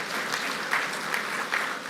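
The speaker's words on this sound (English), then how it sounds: "Let's give a clap to the State Department of Cooperatives." An audience at a foundation launch speech breaks into steady applause, a dense wash of clapping from many hands that holds at an even level throughout.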